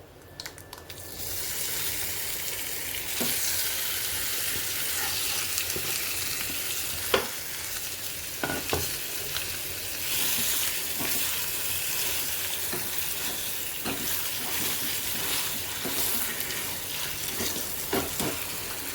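Gongura chutney dropped into a hot tempering with onion pieces in an Andhra kitchen, a strong continuous sizzle with repeated scraping and stirring strokes, close and loud, no voices.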